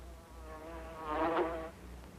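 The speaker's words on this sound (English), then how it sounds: "Have you ever known your bees to swarm anyone, Mrs. Van Bolen?" A faint insect buzz hums briefly, swelling louder for a moment in the middle before fading, over low background noise.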